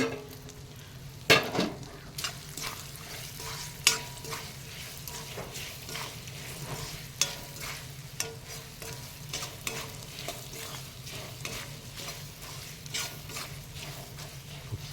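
Continuous frying sizzle of a nutmeg pickle mixture in a pan with repeated scraping and clinking strokes of stirring, close by and fairly quiet, no speech.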